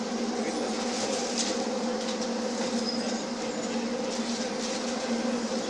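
Tunnel boring machine digging a Mumbai Metro Line 7 tunnel toward the airport: a steady, dense mechanical drone with a sustained hum and a high whining buzz, continuous and unchanging throughout, with no voices.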